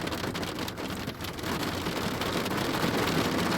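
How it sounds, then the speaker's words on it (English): Heavy rain pours down outside in a dense, steady hiss that fills the whole clip, loud and close, with no voices. "I really hope that you guys can hear my voice over this crazy rain."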